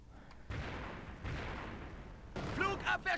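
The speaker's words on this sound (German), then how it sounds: "Drei Mörser, da wird es jetzt gleich knallen" Mortar barrage in the World War II strategy game Company of Heroes: several loud booming blasts with rumbling gunfire, interrupted by voice lines near the end.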